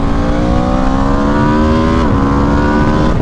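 A 2026 Aprilia RSV4 Factory 1100 superbike pulling hard at about three-quarter throttle, a loud, close, continuous engine roar with rising pitch, a brief dip around a gear change, and steady wind rush underneath.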